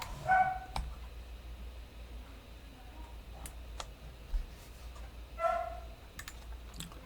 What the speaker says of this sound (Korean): 강아지가 짖는 동안.